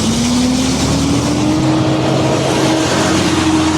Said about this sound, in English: Holy shit, got a big truck behind me.